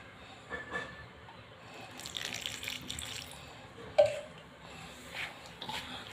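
Water poured little by little into flour while dough for cluster bean dhokli is kneaded in a home kitchen, giving a soft, steady trickle with a few faint splashes and one brief sharper knock near the middle.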